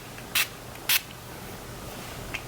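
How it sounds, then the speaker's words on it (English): Urban Decay All Nighter makeup setting spray misted in two quick, close, hissing bursts about half a second apart, then a faint third spritz, over quiet room tone. "I'm going to be using the Urban Decay All Nighter Makeup Setting Spray."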